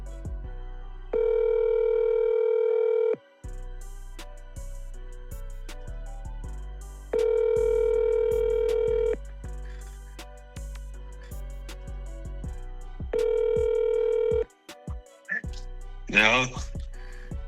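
A phone call rings out on the line: three long repeated ringback tones with pauses between, followed by a brief burst of voice as the call connects.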